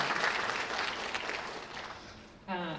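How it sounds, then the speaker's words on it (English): At a cosmetology graduation, an audience claps in a dense, fairly close round of applause that slowly thins, and a voice starts speaking as it fades. "So if we can give her one more round of applause."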